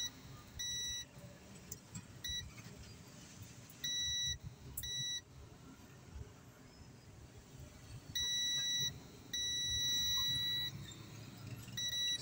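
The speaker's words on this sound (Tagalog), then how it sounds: "naka-buzzer mode tayo" A digital multimeter in buzzer mode beeps during repair of an X12 four-channel car amplifier: several short, thin electronic beeps come in irregular bursts, some brief and some held about a second, over faint background hiss.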